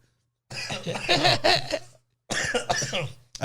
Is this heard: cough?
yes